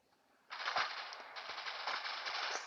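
Rapid automatic gunfire from the mobile shooter game Critical Ops, a burst that starts sharply and keeps rattling densely for about two seconds.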